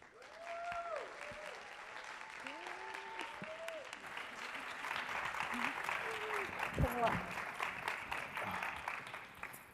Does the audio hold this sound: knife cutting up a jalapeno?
no